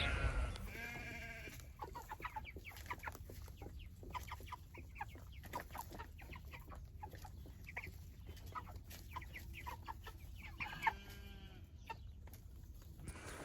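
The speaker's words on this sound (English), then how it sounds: "Sounds like our sheep are saying good morning to you folks." Faint sheep bleats sound from a distance on an early-morning farm, a few bleats scattered among quieter chicken clucks and rustling, with no talking.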